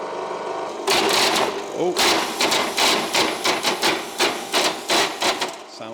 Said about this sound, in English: sounds healthy. There's chain slipping up there.